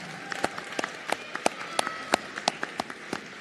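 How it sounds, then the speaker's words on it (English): Applause for nursing graduates at a graduation ceremony comes through as scattered, rhythmic claps at moderate distance. The clapping is fairly sparse rather than a dense roar, and no one speaks. "Round of applause for these Tigers."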